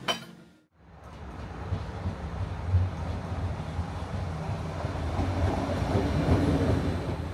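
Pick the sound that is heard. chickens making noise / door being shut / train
train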